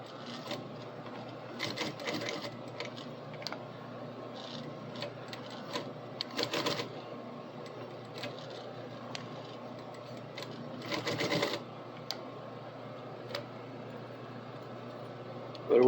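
A sewing machine fitted with a quilting foot stitches thick material such as neoprene, running in short repeated bursts of rapid mechanical clatter with brief pauses between them, close up and with no one talking.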